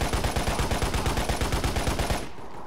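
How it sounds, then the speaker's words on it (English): Rapid enemy automatic gunfire in the video game Lost Planet, a loud, steady stream of evenly spaced shots that cuts off near the end, with no talking. "Shooting at me."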